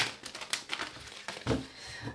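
Tarot cards shuffled up close, giving a quiet run of crisp papery flicks and rustles, with a fuller riffle around the middle and no voices.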